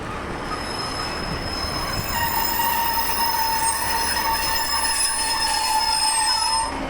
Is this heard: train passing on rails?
yes